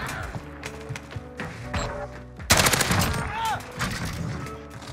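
Holger 26 light machine gun firing in a first-person shooter video game, a loud burst of rapid shots cutting in midway over a busy game soundtrack, with voices talking alongside.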